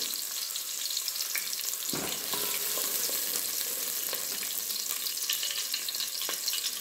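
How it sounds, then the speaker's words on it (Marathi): Chopped onion fries in hot oil for chicken dum biryani, a steady close sizzle with occasional scraping stirs, continuous and alone with no voices. "थोडा गुलाबी होईपर्यंत हा कांदा मी व्यवस्थित भाजून घेते"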